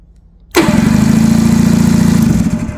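The motor of a 1990 Kawasaki 550SX jet ski catches after a brief quiet moment and runs loud and close with a rapid pulsing two-stroke putter, and no one talks.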